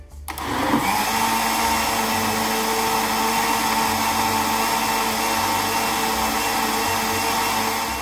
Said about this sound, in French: Nous avons mis une partie de cette fameuse soupe dans le verre du mixeur pour la broyer